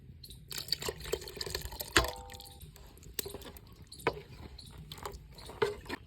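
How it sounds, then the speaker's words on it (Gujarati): Water splashes into a pot of cooking dal with gurgling, dripping and sloshing liquid sounds, fairly quiet and close, broken by a few clinks and knocks, with no talk. "હવે આપણે થોડુંક પાણી નાખી દઈશું."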